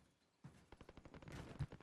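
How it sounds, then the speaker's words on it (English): Gunfire in Call of Duty Warzone crackles as a rapid burst of sharp shots, fairly faint and distant, rising into a denser volley toward the end. "we got gunshots going over to our east-hand side right now"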